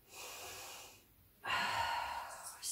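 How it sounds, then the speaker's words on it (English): Deep breathing during a stretching exercise, a faint slow inhale followed by a pause and a stronger, longer exhale, close and quiet. "Already time to breathe again deeply."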